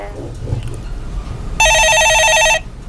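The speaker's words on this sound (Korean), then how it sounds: "전화 받아보겠습니다" A telephone rings with an incoming call on a live Korean stock-market call-in broadcast: one loud, sustained electronic trilling ring lasting about a second, following a stretch of talk.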